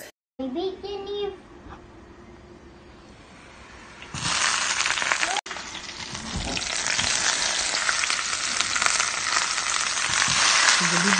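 Leftover pork for adobo hits hot oil and breaks into a loud, steady sizzle that grows fuller as it keeps frying, with voices talking briefly before it.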